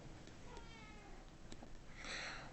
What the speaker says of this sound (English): Oh, the cat is angry.